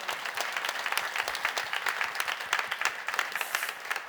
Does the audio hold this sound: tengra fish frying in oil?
no